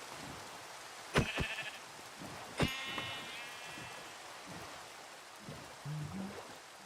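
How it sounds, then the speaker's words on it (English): Sheep bleating in a Minecraft-style game world, several short bleats around one and three seconds, with a few fainter calls later over soft rain-like ambience. "sheep everywhere"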